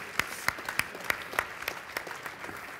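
Sparse audience applause for chef Narisawa at the World Cuisine Summit, individual claps landing at a fairly even rhythm, somewhat distant and faint, thinning out toward the end.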